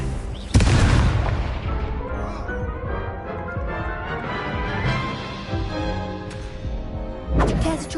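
A Confringo spell blast in Hogwarts Legacy lands with a sudden heavy boom, followed by a rumbling tail under game music, with a second impact near the end.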